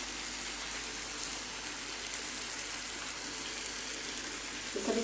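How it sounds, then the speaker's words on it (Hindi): Eggplant slices frying in a pan, a soft continuous sizzle with faint crackles, steady and fairly quiet throughout. "यहाँ पे जो है बैगन जो है फ्राई हो रहे हैं, गोल्डन ब्राउन कर लूँगी दोनों तरफ से"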